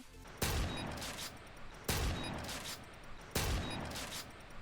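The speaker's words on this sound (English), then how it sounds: "I'm gonna get to a nice quiet spot where you can hear the slide of the spaz" Three evenly spaced mechanical pumps of a SPAS shotgun in the video game IW4x, each a sharp metallic rack followed by a short hiss, fairly quiet and isolated.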